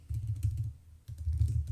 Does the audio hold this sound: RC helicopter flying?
no